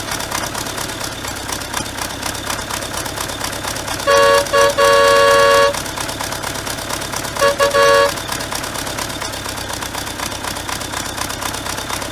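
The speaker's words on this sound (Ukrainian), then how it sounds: "послухати, як сигнал працює на заведений двигун" A tractor's diesel engine idles steadily while a loud Nautilus air horn mounted on it sounds in several blasts, one long burst followed later by shorter ones.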